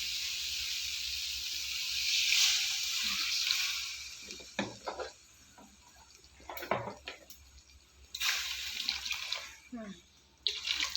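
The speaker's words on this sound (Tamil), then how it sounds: "அதில் தண்ணியை சேர்த்துக்க வேண்டியதான் தேவையான அளவு." Water is poured into a pan of hotel-style parotta salna cooking in oil, making a steady hiss and splash up close that fades off, followed by clinks and a voice talking in Tamil.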